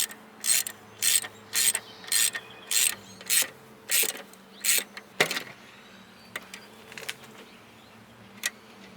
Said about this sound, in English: now that you got the bolts on, you want to tighten them in a kind of a crisscross pattern